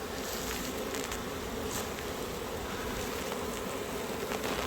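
Dense, steady hum of honeybees crowding around a beehive fitted with an added super, a continuous close buzz with no voices.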